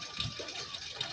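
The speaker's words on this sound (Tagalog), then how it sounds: "Tapos hugas na ng atong mga plato." Running water splashes steadily over plates being washed by hand, a continuous close gush with no voices.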